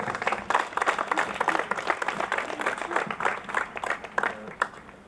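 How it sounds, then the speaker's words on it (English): A crowd applauds at a community unity rally, a round of dense, fairly loud hand clapping that pulses steadily, then thins and tapers off toward the end. "Let's get another round of applause for him."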